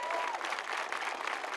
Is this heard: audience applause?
yes